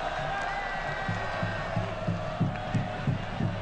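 Botafogo-PB supporters fill a stadium with a steady roar during a Copa do Brasil match against Botafogo-RJ, with rhythmic rising swells of chanting and cheering.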